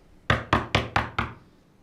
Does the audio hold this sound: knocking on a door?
yes